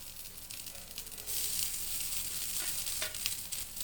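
Jowar dosa batter sizzles in a small amount of oil on a hot pan, a dense, steady crackling hiss that grows louder after the first second and keeps going with small pops, close and alone.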